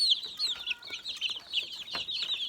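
Several growing chicks and young chickens cluck and peep in a busy, overlapping chatter close by, with no talking over them.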